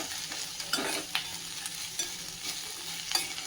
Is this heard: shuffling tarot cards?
no